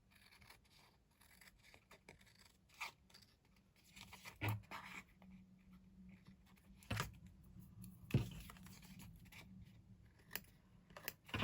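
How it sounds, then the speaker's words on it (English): Sharp scissors snip through tissue paper in a quiet close-up, with a series of crisp cuts spaced irregularly, some louder than others, amid soft rustling and scraping of the paper. "Helps if you've got sharp scissors as well."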